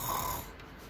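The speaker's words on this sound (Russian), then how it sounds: "Беспокойная. Пухова храпелка." A Winnie-the-Pooh snoring toy gives a short, fairly loud snore-like rasp at the start that fades within half a second, with a faint mechanical whir under it and no talk.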